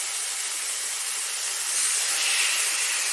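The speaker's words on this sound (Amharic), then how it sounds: "ይሄንን ዝግጅት አድርገን ያስቀመጥነውን ሽሽታዎችንን ቀጥታ እዚህ ላይ እንጠብሳለን ማለት ነው" Marinated shish tawook chicken pieces sizzle steadily in a hot buttered frying pan. The hiss is loud and continuous at close range and grows slightly fuller partway through.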